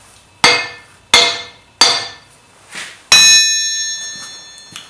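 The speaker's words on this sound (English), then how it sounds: "you notice that the cast iron anvil sounds very dead" Hammer blows on a cast iron anvil: four sharp, evenly spaced strikes, each with a short, dull, dead-sounding ring, then a fifth brighter strike that rings on longer and fades, loud and close with no talk.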